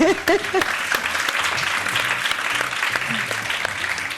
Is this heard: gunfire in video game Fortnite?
no